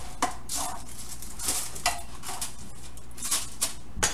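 Eggplant slices being turned in a frying pan over medium-high heat for eggplant parmigiana, with repeated close clinks and scrapes of a utensil against the pan over a soft, steady background.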